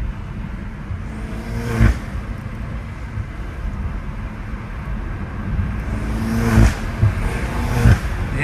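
A BMW M5 Competition F90 engine runs steadily inside the cabin with aftermarket intakes, with brief whooshing intake and turbo spool-down bursts, one early and a couple near the end.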